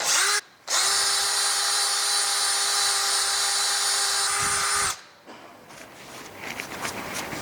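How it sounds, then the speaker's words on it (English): A power drill spinning a wire brush whines loudly and steadily for several seconds after a brief pause, removing rust from a Land Rover Defender exhaust, then stops, leaving faint scraping and handling noises. "I've just got a wire brush on a screwdriver, or a drill"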